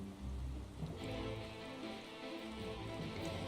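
A heavy rain downpour in Final Fantasy XIV patters steadily and softly, a continuous hiss of drops with a faint low rumble beneath and no pauses.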